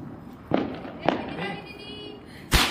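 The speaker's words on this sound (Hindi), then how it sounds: "देखो गली में सारे बालक छोड़ा रहे हैं पटाखे" Firecrackers go off in a residential street during Diwali, several sharp bangs spaced irregularly over a couple of seconds with a louder burst at the end, set against background chatter of voices.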